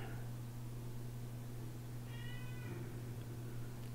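A housecat meows a short series of high, plaintive cries midway through, fairly clear over a steady low electrical hum with no talking.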